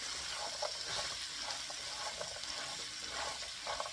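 Washed, dried one-inch okra pieces frying in a pan for bhendi fry masala, a steady soft hiss and crackle throughout with faint bubbling pops, no talk.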